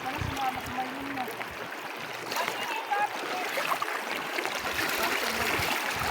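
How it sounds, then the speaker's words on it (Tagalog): A strong river current rushes and splashes in an open outdoor setting in Nueva Ecija, a continuous close watery roar under people talking nearby. "ang lakas ng agos"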